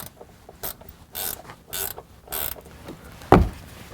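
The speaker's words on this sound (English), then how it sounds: "Now to hook up the grounding wire, I'm gonna go ahead and loosen this nut." A wrench loosens a nut on a vehicle grounding bolt, with several short ratcheting and scraping bursts at an irregular pace followed by a single sharp metallic knock, close and fairly loud with no talking.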